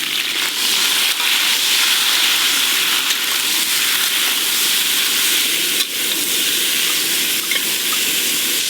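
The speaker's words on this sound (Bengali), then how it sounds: "প্রথমে খিচুড়ির সবজিগুলো ভেজে নেব।" Potatoes and cauliflower fry in hot oil for khichuri, giving a steady, loud, broad sizzling hiss that runs unbroken with a few small crackles and pops, with no voice over it.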